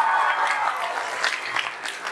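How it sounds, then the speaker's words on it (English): Audience applause for the band at the Pittsboro 2018 Common Cents show, a dense steady wash of clapping that stays fairly loud throughout, with a few sharper bursts toward the end. "We want to give a warm round of applause for our wonderful band."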